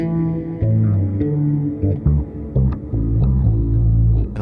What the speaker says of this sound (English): So I flipped some reverb on it.